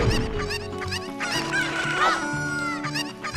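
Chicken clucking in The Legend of Zelda: Ocarina of Time: repeated squawking clucks and a brief crow-like call sound close and clear over bright game music.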